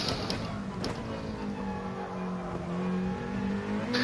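A race car engine in Gran Turismo Sport held at a steady high rev, a loud continuous whine with smooth harmonic tones shifting slightly in pitch as the car drives through a corner.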